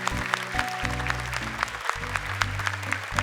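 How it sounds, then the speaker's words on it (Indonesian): Studio audience applause at an Indonesian televised Quran recitation competition, a steady dense patter of clapping lasting throughout, with a low musical tone sustained underneath. "boleh tepuk tangan dong"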